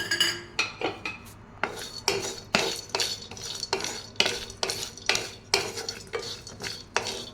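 Cashews, star anise, mace and dry ginger dry-roasting in a pan for chicken masala powder, a rhythmic series of close scraping strokes from a spoon stirring against the pan, about two per second, with no talk.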